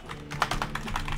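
Someone types on a malfunctioning computer keyboard in a quick run of close, crisp key clicks with no talking.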